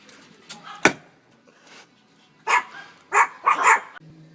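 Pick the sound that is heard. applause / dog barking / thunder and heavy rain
dog barking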